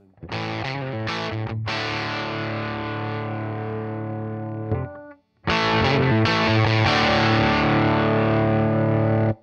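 Electric guitar through an Albion TCT-35C amplifier on its A channel with the power soak cutting output to 33%, playing loud distorted sustained chords in two bursts separated by a brief pause.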